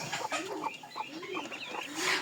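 A village hen that hatched duck eggs clucks in a series of short, close, rapid calls over a couple of seconds, with no voices.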